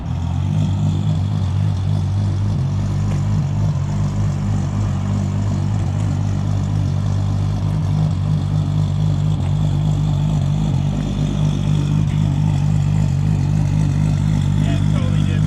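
A Toyota Supra engine rumbles and revs steadily with a loud, close, continuous low drone, while people talk over it.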